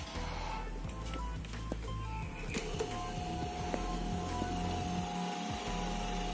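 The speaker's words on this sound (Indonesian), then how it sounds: "Kita nyalakan kipasnya ya." A freshly repaired electric fan runs on its first speed setting, giving a steady motor hum with a rhythmic knocking rattle repeating throughout, close and fairly loud.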